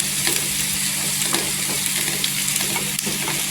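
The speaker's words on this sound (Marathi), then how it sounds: "इथे कांदा पण बघा गोल्डन कलर होत आलेला आहे एक दोन मिनिटासाठी आपण छान परतायचा" Onions sautéing to golden in a pan for a dried Bombay duck chutney give a loud, continuous close sizzle with faint scraping stirs throughout and no talk.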